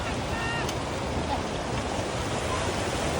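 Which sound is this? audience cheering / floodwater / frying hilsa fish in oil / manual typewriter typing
floodwater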